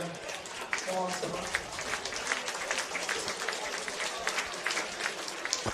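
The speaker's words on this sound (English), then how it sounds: "Applause all round" Crowd applause at a semi-professional men's football match as a player is substituted off, moderate scattered clapping throughout while a commentator talks over it.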